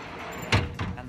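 A vehicle's rear drawer in a wagon build slides shut and hits its stops with a solid thunk, followed by a softer second knock a moment later, close by with light background noise.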